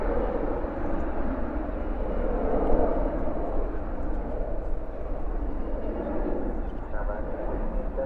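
An Embraer E175 airliner of Envoy, bound for Oklahoma City, rumbles steadily at an airport at night, a broad continuous jet roar that swells slightly midway and holds throughout, with someone talking over it.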